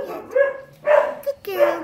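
A small, frightened dog rescued from a roadside gives three short yelping barks with whimpering tones, close and spaced apart, with no talk over them.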